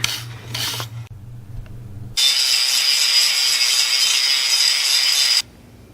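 Angle grinder grinding down a weld, starting with a few short rubbing scrapes and a low hum, then a loud, steady high-pitched grinding whine for about three seconds before it cuts off.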